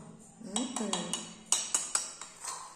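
A child stirs toy fried rice in a small toy wok, giving a quick series of light metallic clinks and scrapes, close and fairly quiet, with no clear talking.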